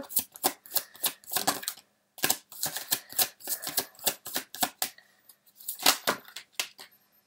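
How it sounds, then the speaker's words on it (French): Tarot cards riffled and drawn in a run of crisp, close bursts of shuffling and flicking, with brief pauses between and no talk. "Alors, je vais sortir toutes les cartes"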